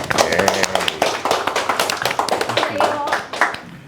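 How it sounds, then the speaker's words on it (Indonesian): An audience at a morning tea research event applauds with dense, uneven clapping, loud and close, while voices talk over it throughout. "Tepuk tangan untuk kita semua."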